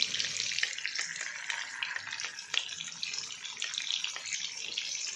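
Onions sizzle in ghee and butter over a slow flame, giving a steady hiss broken by small crackling pops, close up and with no talking.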